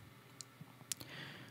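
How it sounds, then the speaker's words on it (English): A few faint, scattered computer keyboard clicks during photo editing, including one sharper key press near the middle, with quiet room noise between. "So I'm gonna hit K on my keyboard."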